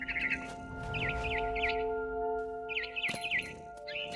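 A frightened barn swallow in What Remains of Edith Finch chirps in quick warbling bursts, two clusters of bright calls over a steady low ambient hum.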